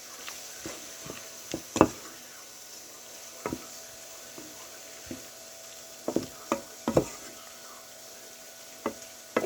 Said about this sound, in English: Now we're going to go ahead and put on our delicious lemon butter garlic sauce.